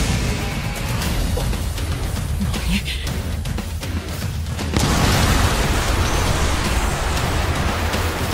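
Rain falling during an outdoor anime fight scene, a steady dense hiss that stays constant throughout and swells noticeably louder about halfway through.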